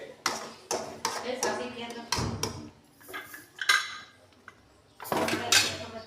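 A spoon scrapes and knocks against a pan and lid while vermicelli upma cooks, giving sharp intermittent metallic clinks and taps in separate bursts, with someone talking in between.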